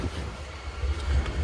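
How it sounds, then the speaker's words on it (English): A passenger train in the Netherlands rumbles by with a deep, steady roar and faint rattling, close and continuous over a brief moment. "This train is going to be packed."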